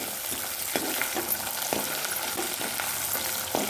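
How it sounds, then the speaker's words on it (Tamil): Onion and garlic sautéing in a hot pan, a steady bright sizzle punctuated by regular scraping stirs of a spoon against the pan, close and alone without talk. "வெங்காயத்தை போட்டுட்டு வதக்கிட்டே இருக்கும்போது அடுத்தது பூண்டை போடணும்"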